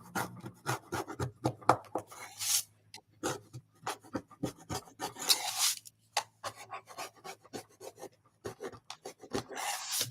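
Repeated rasping scrapes on a craft piece sound close and dry, coming in quick uneven strokes with short pauses between bursts.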